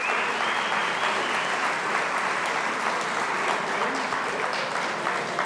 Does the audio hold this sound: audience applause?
yes